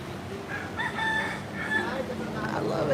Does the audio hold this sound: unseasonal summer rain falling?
no